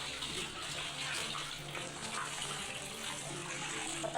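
Water running steadily in a shared dormitory shower room, a constant, fairly quiet hiss and splash of flowing water with no speech.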